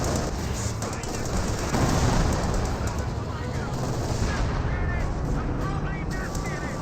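Gunfire and artillery crackle in a Company of Heroes 2 battle, a dense wash of shots and booms that runs through the whole stretch at steady loudness, with voices partly audible under the combat.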